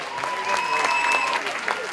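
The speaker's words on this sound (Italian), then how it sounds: "che merita un triplo applauso." Audience applause fills a live comedy show at Teatro Gelsomino in Afragola, a steady wash of clapping from a theatre crowd lasting about two seconds.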